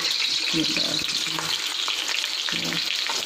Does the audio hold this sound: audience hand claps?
no